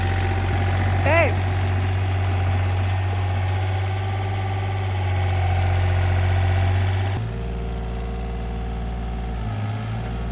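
An excavator engine idles steadily with a low, even rumble and vibration throughout, dropping slightly in pitch and level partway through, while a person talks faintly over it.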